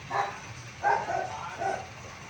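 A dog barks a few times from downstairs, short muffled yaps spaced irregularly against quiet room noise.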